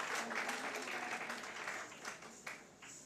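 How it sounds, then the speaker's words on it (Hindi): An audience at a cultural stage program gives steady applause that sounds faint and somewhat distant, a continuous patter of many hands slowly thinning toward the end. "जोरदार तालियों से एक बार आकांक्षा मिश्रा का अभिनंदन"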